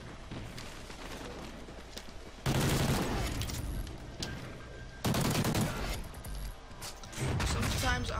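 Semi-automatic gunfire in a video game comes in three loud bursts of rapid shots, each about a second or two long and separated by quieter stretches of game ambience.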